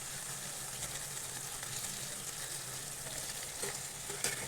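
A tomato and onion mixture for allam pachadi frying in a pan with tamarind added, giving a continuous close sizzle with stirring scrapes and a few sharper clicks near the end, no voices over it.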